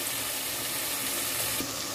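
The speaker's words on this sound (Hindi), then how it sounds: "इसको अच्छी तरह से भून लेंगे" Ginger, garlic and onion fry in a pan for a tahari rice dish, making a soft, steady sizzle close by with faint stirring and no talk.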